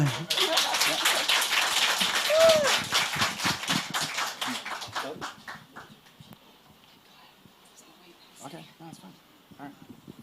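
A church congregation applauds at a pastor's service, dense clapping for about five seconds that then fades into quieter room noise, with a voice speaking over it.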